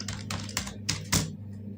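Close, crisp clicks of fingers typing a word on a computer keyboard, about five quick keystrokes in an uneven burst, with no talking.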